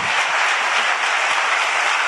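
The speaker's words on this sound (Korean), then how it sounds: "박수가 밥 한 그릇도 안 먹은 사람 같다" A church congregation applauds with a steady hiss of many hands clapping at once, even and moderately loud, with no single claps standing out.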